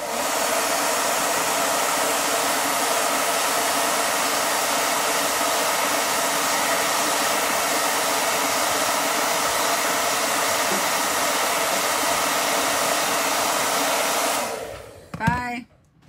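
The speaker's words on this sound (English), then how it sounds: "I had the blow dryer on" A blow dryer runs as a loud, steady whirring roar while drying chalk paste on a silkscreen, holding constant for about fifteen seconds before it cuts off abruptly with a brief click.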